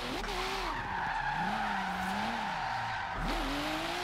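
Tires squeal steadily through a drift in Forza Horizon 3, played on a wheel with simulation steering and no handbrake, the screech wavering in pitch over a constant engine drone, loud and continuous throughout.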